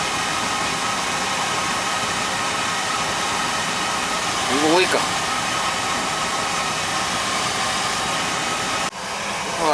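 An old Beckett oil burner runs with a steady, loud roaring whoosh that continues throughout, and someone speaks briefly over it.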